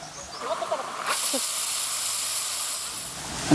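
A pressure cooker cooking mutton lets out a loud, steady hiss of steam that starts abruptly and continues without break, preceded by a few brief faint tones.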